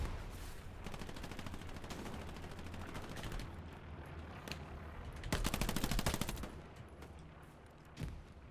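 Sustained automatic machine gun fire in the World War II shooter Hell Let Loose, dense rapid bursts with a louder, closer volley near the end and a final sharp shot.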